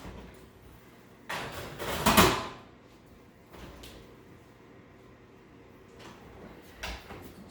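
An oven door closes after a spinach pie goes in: a soft thump, then a louder clunk and slide, followed by a few faint bumps in a quiet kitchen.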